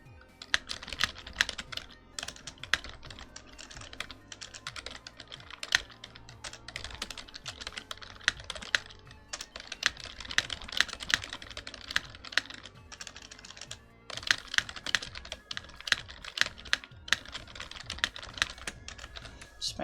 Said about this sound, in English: Just my typing sounds.